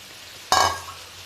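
Potatoes tipped into a hot pan of curry base give a sudden loud sizzle that flares up and then settles into a softer frying hiss over about a second.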